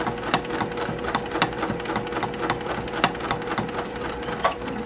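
A sewing machine runs steadily at stitch length 7, its needle punching through fabric in a close, even, rhythmic chatter that holds constant from start to finish.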